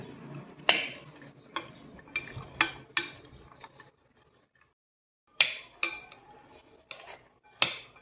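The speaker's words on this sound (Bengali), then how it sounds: "শসা আর টমেটো। সবগুলো আবারও ভালো করে মিশিয়ে নিচ্ছি।" A utensil clinks against a bowl while cucumber and tomato are mixed into Kolkata-style alu kabli chaat: sharp, close taps in two irregular bursts separated by a short silent pause, with no voices.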